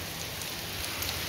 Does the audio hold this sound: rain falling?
yes